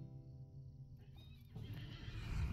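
A horse in Lord of the Rings Online gives a faint, drawn-out whinny that fades into a rougher, louder rumble of movement and snorting.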